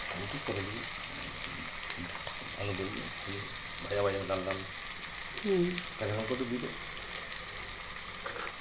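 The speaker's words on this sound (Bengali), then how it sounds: "পেঁয়াজটা হালকা ভাজা হয়েছে" Onion fries in a pan with a continuous close sizzle, stirred now and then, while a voice talks intermittently over the cooking.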